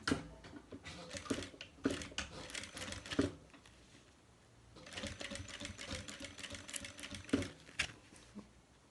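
Domestic sewing machine stitching a fabric toiletry bag, running in two bursts of rapid mechanical chatter separated by a quieter pause, close and fairly loud with no talking.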